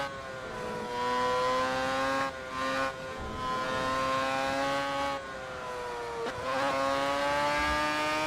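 Old Formula 1 cars race around a Japanese circuit in a racing video game, a high, screaming engine note that climbs through gears, drops sharply on brief lifts and downshifts, then winds back up, loud and close.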